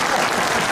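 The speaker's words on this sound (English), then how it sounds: "That's worth a round of applause" A crowd at a riders' meet-and-greet event bursts into applause, a brief dense burst of clapping filling the room.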